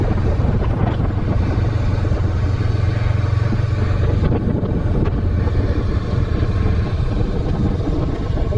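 A 2022 Honda Rebel 500 motorcycle cruising on an open road, its steady engine drone mixed with heavy wind buffeting the microphone, continuous and loud throughout with no talking.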